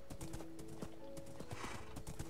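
A horse in a video game trots with steady clip-clop hoofbeats and lets out a whinny partway through, all at fairly low level over a constant background.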